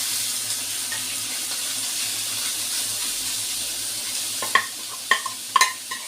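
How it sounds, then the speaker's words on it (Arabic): Ground beef frying in a pan makes a soft, continuous close sizzle, and sharp scrapes and clinks of stirring break through near the end, with no talking. "هنا هنعصر اللحمة ونديها صدمة الأول، هننزل كده باللحمة."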